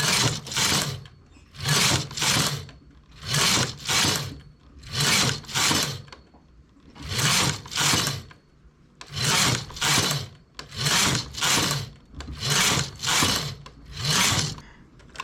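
A knitting machine working a toucan keychain makes a steady series of about a dozen close, rhythmic sliding rasps as the carriage is pushed back and forth, each pass separated by a short gap.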